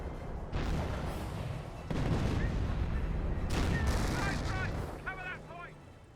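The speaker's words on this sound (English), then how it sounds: "He's barraging the entrance." Artillery barrage hammering an entrance in the World War II strategy game Company of Heroes, with continuous heavy rumbling blasts, a few sharper booms and brief tonal game cues near the end.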